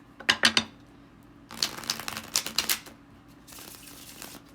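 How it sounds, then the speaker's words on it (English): Tarot cards shuffled by hand make quick riffling bursts: a short flurry, a longer run of snaps, then a softer ruffle, close and clear with no talking. "The art of tarot is the shuffling process."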